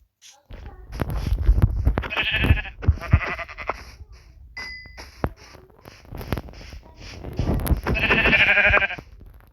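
Sheep in Minecraft bleat in several loud wavering cries spread across the stretch, mixed with game sound effects, footsteps and thuds from nearby action.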